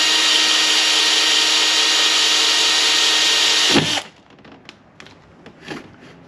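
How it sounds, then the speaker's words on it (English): A power drill with a 5/16-inch (8 mm) bit drilling a hole on a Can-Am Spyder F3 whines loudly and steadily for several seconds, then spins down and stops, followed by a few faint taps and clicks. "Take 5/16" drill, which should be 8mm according to Europe specs."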